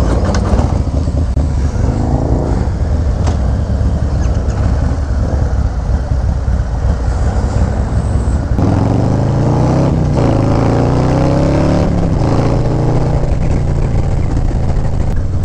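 A group of Harley-Davidson motorcycles ride steadily, their engines a loud, continuous rumble mixed with wind noise, with a rising surge of revving midway through.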